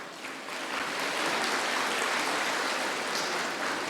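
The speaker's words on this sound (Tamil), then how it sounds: "இவ்வளவுதான் நீங்க கைதட்டுவீங்களா?" An audience claps at a Tamil debate show. The applause is a steady, moderately loud patter that swells in and holds for a few seconds, with no talk over it.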